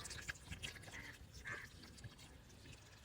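Humic acid solution in water poured over young capsicum seedlings, a faint soft trickle and drip of liquid heard close by for a few seconds.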